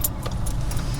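Keys jangle faintly in a car's ignition as the key is twisted to switch the car on during a driving lesson, a brief light metallic rattle over a low engine hum.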